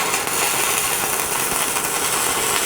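A stick welding arc burns on steel window bars, producing a continuous, close, loud crackling hiss with no pauses and no one talking.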